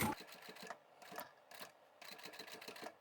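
A sewing machine stitches the edges of a small fabric cosmetic pouch in short bursts of quick rhythmic needle clatter, faint and close, separated by brief pauses.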